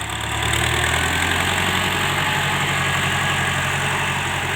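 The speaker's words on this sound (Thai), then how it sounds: "สี่สูบครับรุ่นนี้ เสียงเครื่องนี้ไม่ต้องพูดถึงครับ แน่นมากครับผมว่า" A four-cylinder 105 hp 7740 tractor engine runs at a steady idle, loud and close, with a constant low rumble and dense vibration throughout and no voices.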